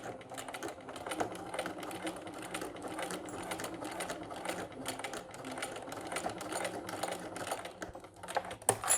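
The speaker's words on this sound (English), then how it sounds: "I'm just going to kind of top stitch that bottom edge down." A sewing machine top stitches the bottom edge of a crossbody bag, running in a fast, steady needle patter with short pauses and tiny speed changes throughout, close and alone.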